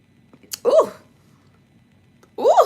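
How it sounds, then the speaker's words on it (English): A person lets out a loud, drawn-out burp, then a second one after a short quiet pause, both close and alone without talk. "that burp was pretty bad"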